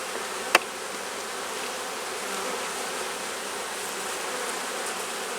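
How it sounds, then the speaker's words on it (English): Honey bees buzz steadily and densely around an open brood frame lifted from a hive, with one brief sharp click near the start. "Take one look at this frame, and I might shake these bees off."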